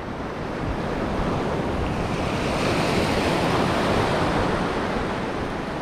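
Strong ocean waves crash on a shore at a fishing spot as a loud, continuous roar of surf with wind rushing against the microphone, steady and close throughout, with no talking.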